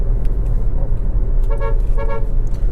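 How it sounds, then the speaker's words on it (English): The stock horn of a Hyundai Creta sounds two short, loud, close honks about half a second apart over a low rumbling engine or road background. "Also, this Creta has a very good horn."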